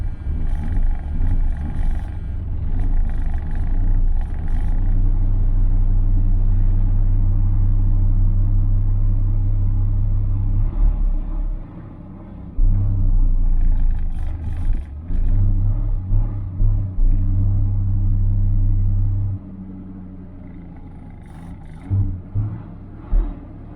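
A car engine fitted with two Chinese-made knock-off Rochester Quadrajet carburetors starts and runs close by, a loud steady rumble with a brief dip near the middle and uneven revving blips toward the end.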